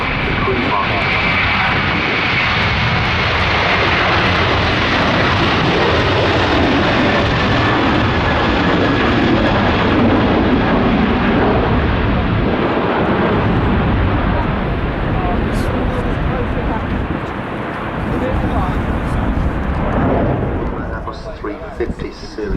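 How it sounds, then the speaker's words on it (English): Airbus A350-900 airliner at Manchester Airport on a flight to Singapore, a loud, sustained roar of jet engines close by that fades slightly near the end, with people talking over it. "Airbus 350 Series 900s, making the one of the 5 times weekly flights that the airline performs back to Singapore"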